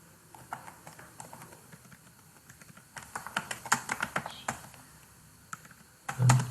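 Keys of a computer keyboard being typed on during data entry for a student record form, a scattering of light clicks that thicken into a busier burst midway, close and fairly quiet, with a louder thump near the end.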